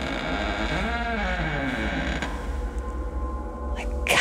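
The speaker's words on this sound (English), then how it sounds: "He went to the library door, put the key in the lock, turned it, the door open." An old library door creaks open with a long, drawn-out groan, its pitch bending and wavering over several seconds before ending in a brief clack, heard up close with no voices.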